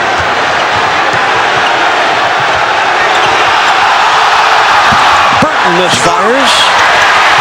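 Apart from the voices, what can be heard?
Madison Square Garden basketball crowd responding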